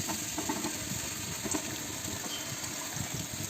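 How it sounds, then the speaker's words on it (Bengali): Mixed vegetables with jackfruit sizzling in a hot pan, a low steady hiss and bubbling frying noise with faint soft clatters, fairly quiet and without speech. "এখন সবজিটা এর মধ্যে ঢেলে দিব কাঁঠাল"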